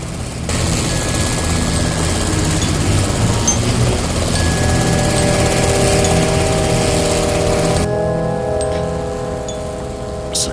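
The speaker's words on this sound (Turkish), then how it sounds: "Abi, helikopter yanımızda. Yakın uçuyorlar." A civilian helicopter flies close by during a tense drama scene, its loud steady rotor thrum and engine whine filling the whole stretch and shifting in tone near the end.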